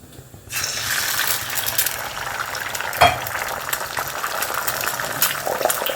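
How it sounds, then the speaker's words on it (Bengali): Eggs fry in a little refined white oil in a pan, giving a steady, close crackling sizzle with a brief clink midway. "ডিমটা কিন্তু ভাজছি আমি হোয়াইট অয়েলে, মানে রিফাইন্ড অয়েলে"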